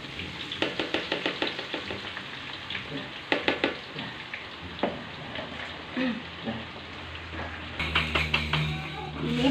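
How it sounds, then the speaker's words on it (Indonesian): Leftover sliced shallots frying in hot oil for bawang goreng, a steady close sizzle with scraping and stirring taps against the pan, rising toward the end. "Ini sisa yang tadi mau mama goreng lagi ya."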